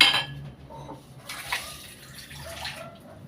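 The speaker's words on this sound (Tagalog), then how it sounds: "Siguro dadagdagan ko muna ng tubig para madali siya maluto." Water splashes and trickles into a metal pot of cooking squid adobo with banana blossom, with light clinks of cookware, close by and fairly quiet.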